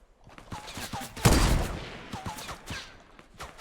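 A single loud sniper rifle shot in Fortnite Battle Royale cracks out near the middle and rings off into a decaying tail, with faint game sounds and people talking excitedly before and after.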